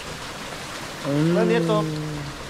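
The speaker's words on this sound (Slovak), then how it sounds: "A prší nám tu do toho teplej vody." Rain patters steadily into a warm pool in the jungle on Negros island in the Philippines, a soft hiss running throughout while someone talks over it.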